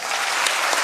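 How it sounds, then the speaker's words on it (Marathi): Loud, dense applause from a crowd at a student motivational talk, steady clapping filling the whole short moment with no voices. "एकदा विचार मंचासाठी जोरदार टाळ्या होत्या."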